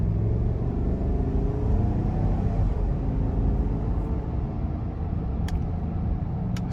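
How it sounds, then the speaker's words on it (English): Low, steady rumble of a 2021 GMC Yukon SLE with 10-speed transmission accelerating under throttle, heard from inside the cabin as a broad engine and road drone. "So we're gonna give it a little throttle here."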